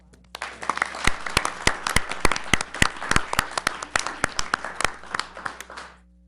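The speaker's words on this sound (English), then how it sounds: "how about a round of applause?" A round of applause at a school board meeting: a small room of people clapping, with distinct, sharp individual claps in an irregular rhythm that build quickly, hold, then taper off and stop.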